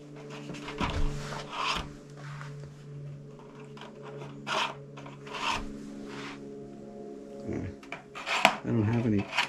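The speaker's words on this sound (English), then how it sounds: "if I take my finger, you can rub the image right off of it" A finger rubs the image off a photographic test plate from an ultra large format camera, giving soft scratchy rasping strokes in bursts, close up, with a steady low hum and speech in the background.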